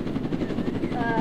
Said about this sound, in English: Where's my helicopter?